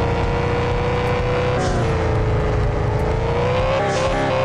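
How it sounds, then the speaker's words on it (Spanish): A blue sports car in the Superhero Ramps racing game accelerates at full speed, its engine roaring loud and steady with rising revs and no talk over it. "vamos a acelerar a toda velocidad amigos para poder realizar saltos sorprendentes"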